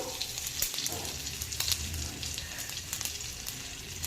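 Whole cumin seeds sizzle in hot butter for tempering chana dal, a steady close frying hiss with small crackles and pops and occasional stirring clicks, with no talking.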